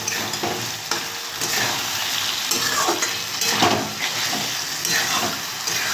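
Tilapia fish masala with taro roots is stir-fried in a pan, giving a continuous close sizzle with scraping stirring strokes and occasional utensil clinks throughout.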